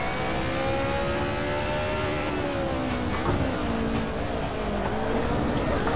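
Race car engine in Assetto Corsa, a racing video game on a modded track, droning loudly and continuously for several seconds with a rising and falling pitch as the car works through corners.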